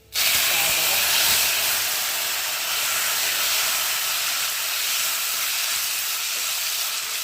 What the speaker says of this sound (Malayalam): ശകലം പുളിവെള്ളം ഞാനങ്ങനെ ഒഴിച്ചപ്പോൾ